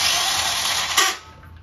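Starter motor on a 50cc Kazuma Meerkat Chinese quad, fed from a new battery, whirs in a loud, strained, high-pitched grind for about a second before cutting off.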